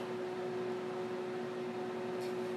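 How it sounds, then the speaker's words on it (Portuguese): A microwave oven heating gelatin runs with a steady, low electrical hum and even fan-like whir, quiet and unbroken throughout. "Leva o micro-ondas por 30 segundos."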